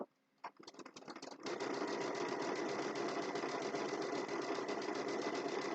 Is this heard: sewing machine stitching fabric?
yes